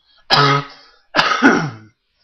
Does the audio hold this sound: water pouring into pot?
no